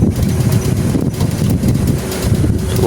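Strong wind blowing in a village, roaring loudly and continuously across the microphone with heavy low buffeting and no voices.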